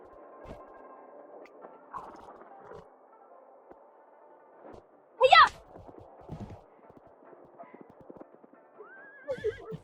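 Hooves clop at an easy pace as a horse lets out one loud, shrill whinny midway, with quiet voices murmuring in the background.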